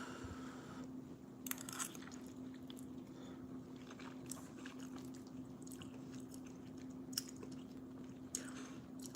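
Spicy Buldak ramen noodles coated in chili oil being chewed close up, with soft, wet, squishy mastication sounds running throughout over a steady low hum, with no talking.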